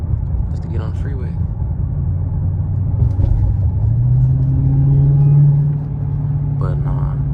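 A Dodge Charger Hellcat Redeye rumbles steadily from inside the cabin as it merges onto a freeway, the engine note swelling into a rising drone midway before settling, with someone talking over it.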